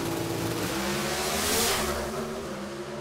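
A drag racing car accelerates hard down the strip at an NHRA national event in Topeka, a loud, sustained engine roar that swells toward the middle and stays steady throughout, with no talk over it.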